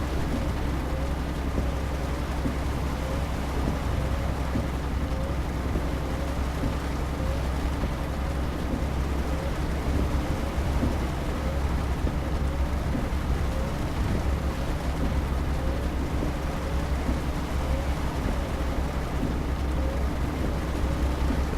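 Steady rain on a truck during a night drive in Euro Truck Simulator 2, a constant wash over a low engine drone with rumbling thunder blended in, unbroken throughout.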